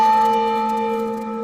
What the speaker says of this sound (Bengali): ঘন্টাটা শুনলে তুমি?